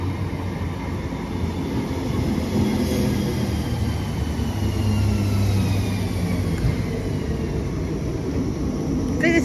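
A Class 769 diesel train pulls into a Cheshire station, terminating from Alderley Edge sidings, a loud, steady low engine drone and rolling rumble with faint squeals, heard from close by on the platform.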